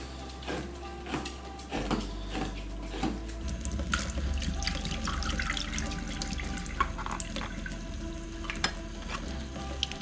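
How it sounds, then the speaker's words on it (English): Tap water runs over drained garbanzo beans (chickpeas) being rinsed in a kitchen sink, a steady close splashing stream that continues for about ten seconds with no talking. "we need to drain and rinse our garbanzo beans"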